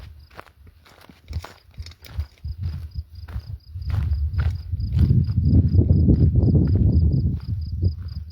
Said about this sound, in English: I hear crickets cricketing right now.